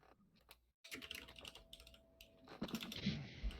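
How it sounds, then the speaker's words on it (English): Rapid clicking keystrokes on a computer keyboard, picked up by a microphone during a podcast recording, steady bursts of typing with no voices over it. "I can hear you typing"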